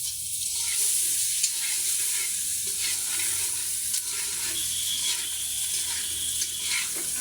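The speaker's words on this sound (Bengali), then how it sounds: "ডিম আসলে অনেকভাবেই ভুনা করা যায়, তো আজকে আমরা এই ভুনাটাই করে খাবো" Eggs fry in a pan with onion and chili for bhuna, giving a loud, continuous sizzle with scraping stirring throughout.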